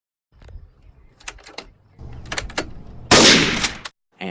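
Gunshots ring out in a film of the JFK assassination, heard as several sharp cracks, then a loud, dense burst of noise near the end, with no voices.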